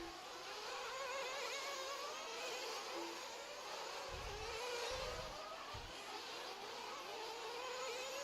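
Nitro RC cars racing on a dirt track, a steady high-pitched buzzing engine whine that rises and falls with throttle, with a few low thumps partway through.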